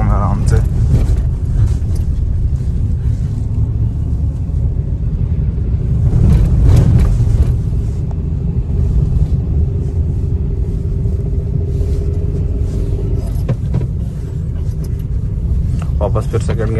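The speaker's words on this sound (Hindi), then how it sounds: "यहाँ पे खद्दड़ था, धीरे धीरे निकाल रहा हूँ मैं आराम से।" A car creeps slowly out of a pothole under careful clutch and brake control, giving a low, steady engine rumble with a few bumps and knocks while someone talks over it.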